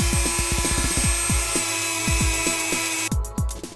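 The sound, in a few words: Dremel rotary tool cleaning motorbike parts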